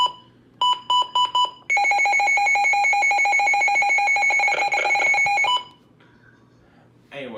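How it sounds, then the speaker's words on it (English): A weather radio alert siren on high volume: a few short tonal beeps, then a long loud piercing electronic alarm tone holding steady for several seconds before cutting off, followed by a quiet tail. "let's test this siren real quick"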